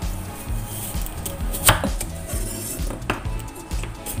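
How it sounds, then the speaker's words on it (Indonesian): A knife chops carrots on a cutting board in quick regular strokes, close and crisp, with occasional clinks of metal and dishes and no talking. "Lalu iris wortel."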